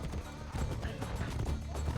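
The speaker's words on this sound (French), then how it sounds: "C'est les chevaux." Horses in Assassin's Creed Brotherhood, a steady clip-clop of hooves with a brief whinny over busy game ambience, fairly close and continuous.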